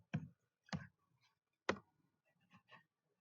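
Sparse keystrokes on a computer keyboard typed with one hand, about five separate clicks at uneven intervals, close and fairly quiet with silence between.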